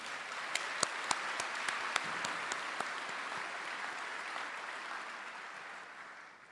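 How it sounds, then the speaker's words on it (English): Audience applause for a high school orchestra at a graduation ceremony, a broad, even wash of many hands with a few sharp nearby claps early on, gradually fading. "How about one more round of applause for our JM Orchestra?"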